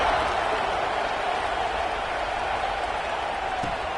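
A stadium crowd at a football game after a scoring drive gives off a steady, dense roar of cheering and applause, even and continuous throughout with no break.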